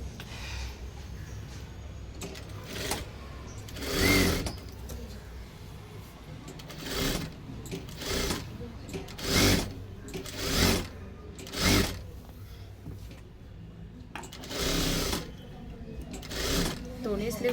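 A sewing machine stitches the sleeve of a tucked blouse in short, repeated bursts of close whirring, separated by pauses in which someone speaks.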